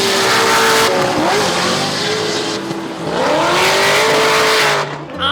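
A drift car at a Formula Drift event revs hard and squeals its tires close by, the engine note rising and falling through a long, loud skid before cutting off abruptly.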